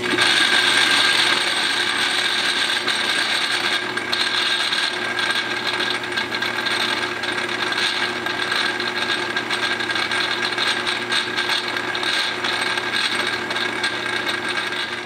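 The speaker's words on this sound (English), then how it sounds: "we need to turn the brass down to a size that's small enough to fit into the small surfaces that we're dealing with" A lathe turns brass stock down to size, a steady close mechanical whir with constant ringing and chattering tones running continuously without talk.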